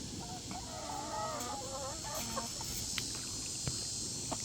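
Backyard chickens cluck and murmur over scattered corn, a cluster of soft, nearby calls in the first couple of seconds followed by quieter scattered clucks against a faint steady background.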